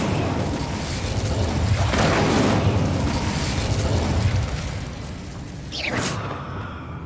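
The Incendio fire spell goes off in the Hogwarts Legacy video game, a sustained roaring burst of flame and boom followed by a sharp whooshing swish near the end.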